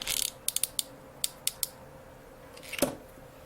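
A lighter is flicked several times, giving a run of sharp, quiet ratcheting clicks from the spark wheel at close range, followed by a brief scrape and a faint hiss.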